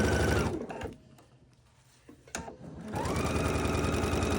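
A sewing machine back-stitches a fabric tube, whirring loudly and close at the start, pausing for about two seconds of near quiet with a few clicks, then starting up again in a steady run.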